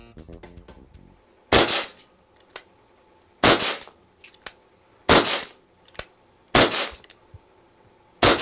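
A Webley Mark VI air pistol fired at a target from about 15 feet gives five sharp, loud shots spaced roughly a second and a half apart, each followed by a short mechanical click, with quiet handling noise between them.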